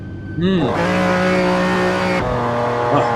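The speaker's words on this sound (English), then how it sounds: "he had the revs all the way up, but not too much wheel spin" A classic car at a hillclimb launch revs hard with a sudden loud burst, holding a high, steady engine note before the pitch drops as it pulls away, with a commentator's voice briefly underneath.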